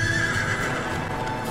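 A horse whinnies in a high, drawn-out neigh over a steady, close clip-clop of hooves, with the rhythm continuing evenly beneath the call throughout the short stretch.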